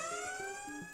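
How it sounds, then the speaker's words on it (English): A Planet Fitness lunk alarm sounds at a gym, a steady electronic siren-like wail with repeating tones, loud and continuous with no talk. "Planet Fitness also has their notorious lunk alarm, which can be triggered by Planet Fitness staff anytime they see a member working out too intensely"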